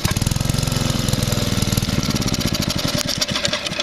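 A small Generac Model 8838-0 engine, started with starting fluid, runs loud and close with a rapid, rough chugging rhythm that stumbles slightly toward the end, with no talking.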